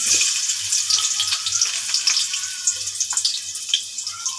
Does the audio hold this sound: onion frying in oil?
yes